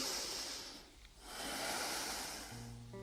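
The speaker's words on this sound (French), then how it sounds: "c'est bien de faire une respiration longue et profonde" A long, deep breath drawn in and pushed out before a fire breathing exercise, heard as two slow airy rushes close to the mic with a short pause between, followed by a faint hum.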